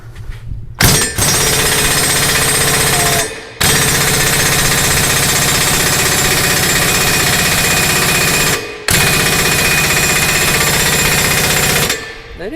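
A pneumatic air impact gun hammers at undercarriage bolts on a Deere 850J crawler dozer, loud and close in three long sustained bursts separated by brief pauses.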